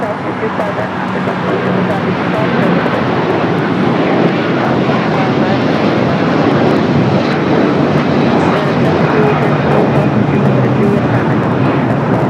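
Airliner at Los Angeles airport: a loud, dense, continuous jet roar that builds in the first seconds and then holds steady, close by, with speech over it.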